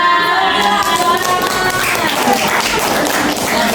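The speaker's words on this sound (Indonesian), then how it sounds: "Tepuk tangan dulu buat kelompoknya" Classroom students applauding a group, loud and close, a dense burst of many hands clapping that holds steady for several seconds.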